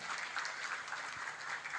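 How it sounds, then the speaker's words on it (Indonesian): Applause from an audience at a parenting seminar held at a madrasah school, a steady, dense crowd clapping that sounds moderately distant and fills the whole moment without any talk over it. "kalau leres tepuk tangannya yang paling kenceng"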